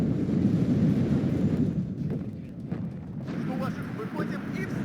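Artillery fire and explosions in the wargame WARNO, a continuous heavy rumble of blasts and booms with a few sharper impacts, dense and loud throughout.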